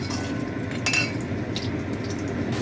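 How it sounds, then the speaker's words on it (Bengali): Lentil dumplings (bori) frying in a pan of hot oil for a papaya curry, giving a steady close sizzle with a few brief scraping and stirring clicks. "বড়িগুলো ভাজা হয়ে গেছে"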